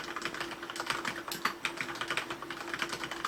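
Brisk typing clatters on a Corsair K68 waterproof mechanical keyboard, a steady run of light, close key clicks with no talk.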